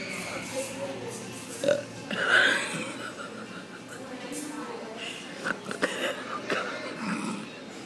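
Belching in a coffee shop: a few short guttural burps stand out over the busy background chatter of other people talking nearby.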